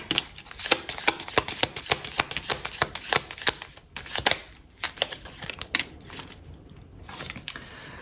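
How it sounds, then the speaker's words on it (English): Oracle cards being shuffled by hand, a rapid run of crisp papery riffles and slaps repeating closely for several seconds, near and clear with no talk. "So I just cut them a few times and we'll shuffle them."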